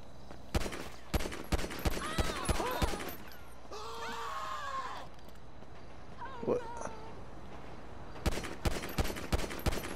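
Gunfire in Grand Theft Auto V comes in rapid bursts at the start and end, with sharp shots scattered between and some vocal or game sounds in the middle.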